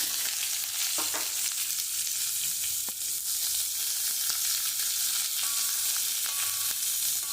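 Steady, close sizzling of chopped onions frying in hot oil with mustard seeds and curry leaves, with occasional light clicks and stirring sounds over the constant crackle.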